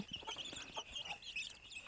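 Chickens cluck softly and steadily while pecking at a mixed feed of onion, coconut and other ingredients, with scattered short calls close by and no talking.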